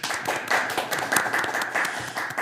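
Audience applause at a disability rights law forum, honoring the panelists and the lawyer who prepared the event, with dense, lively clapping that stays steady throughout the short stretch.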